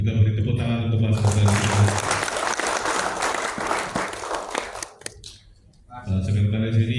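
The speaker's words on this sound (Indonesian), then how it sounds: "Kita beri tepuk tangan untuk Mas" An audience at a formal management seminar breaks into dense, sustained applause for several seconds and then trails off. A voice speaks through a loudspeaker before and after the clapping.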